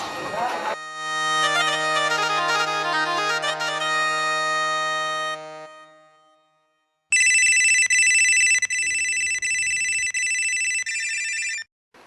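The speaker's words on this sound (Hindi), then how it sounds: "किसका फोन है? सच्चो का फोन।" A loud electronic telephone ringtone plays a melodic tune, pauses briefly, then a shriller ring tone sounds again, close and clear.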